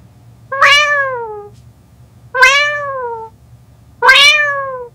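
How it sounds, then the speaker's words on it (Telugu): An AI-generated cat gives three loud, clear meows, each a drawn-out falling cry spaced about two seconds apart over a faint low hum, with no talking. "ఆ మియో మియో అనే వాయిస్లోనే మనకైతే కనిపిస్తుంది అనమాట."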